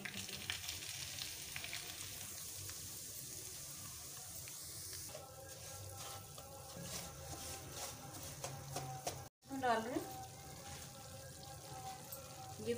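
Semolina roasting in hot milk with khoya for a sweet halwa, a steady bubbling sizzle with occasional stirring scrapes throughout, with a brief break near the end.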